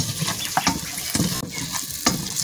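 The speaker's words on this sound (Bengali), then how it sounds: "কিছুক্ষণ যাবত আমি এভাবে মশলার উপকরণের সঙ্গে কাঁচা আমের পিসগুলো ভেজে নিই" Raw mango pieces fry with spices for a dal, giving a soft steady sizzle broken by several clinks and scrapes of stirring, close and moderately loud.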